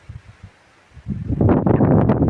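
Cold wind blows through a garden on a cloudy morning, starting as faint gusty rustle and swelling after about a second into a loud, sustained roar buffeting the microphone.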